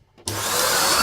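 A Vax Power 5 Pet vacuum cleaner switches on after a brief quiet moment, then whirs steadily and loudly at close range with a broad rushing motor and brush roar.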